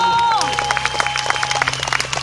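Audience applause welcoming a performer costumed as Jan Žižka at the Tábor meetings festival, steady dense clapping with a few sharper individual claps, under a held tone and voices.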